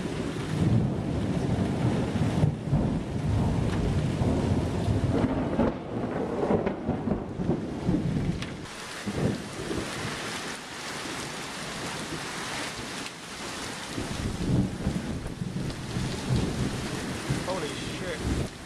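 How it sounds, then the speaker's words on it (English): Heavy rain pours steadily in Japan with deep rolling thunder rumbling through, gusts of wind buffeting close by, loud and continuous throughout. "It's raining."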